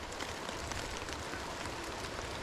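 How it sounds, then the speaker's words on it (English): Rain falls steadily during a rainstorm on a sunny day at a mountain lake in Northern British Columbia, a dense, even hiss of drops with no pauses, close and moderately loud, and nobody talking. "Apparently we're going to have a rainstorm now."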